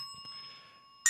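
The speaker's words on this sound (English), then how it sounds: "And I got to get these bells a little closer." A small bell chimes once at the very end with a bright, short ring, after a stretch of quiet room hum with steady high tones.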